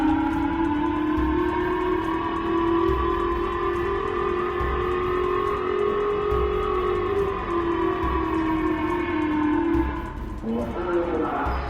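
Emergency evacuation siren sounding in Japan after a missile launch, a loud sustained wailing tone that holds steady for about ten seconds before dropping away near the end.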